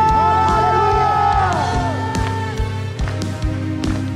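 Church congregation at a revival service roaring and shouting hallelujah together, a loud sustained crowd cheer with whoops over sustained organ or keyboard chords and a steady beat.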